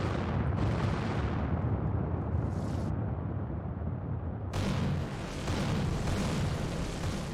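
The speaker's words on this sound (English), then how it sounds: "the PlayStation version of the Disney Infinity game couldn't handle the large number of simultaneous explosions going off" Many simultaneous explosions rumble and boom in a continuous dense roar during the final battle of the Disney Infinity video game on PlayStation, with a brief dip before the blasts swell loud again.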